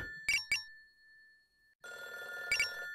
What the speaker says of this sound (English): This phone's been ringing forever.